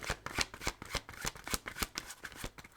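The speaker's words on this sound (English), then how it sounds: "All right, let me shuffle." Tarot cards being shuffled by hand in a quick series of crisp riffling bursts and flutters, roughly a dozen close slaps in an uneven rhythm, with no talking.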